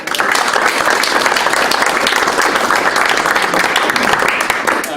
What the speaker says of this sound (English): So an applause for Eric as well.